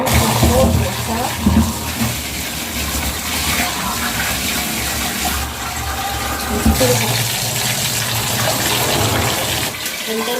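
Cold water runs steadily from a tap during indoor plant cleaning, a continuous splashing gush that stays fairly loud and even for the whole stretch.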